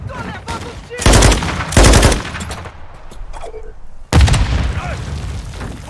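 Call of Duty gunfire strikes the player in loud, sharp broadband bursts, two heavy volleys close together followed by another later blast, with excited voices shouting over the battle.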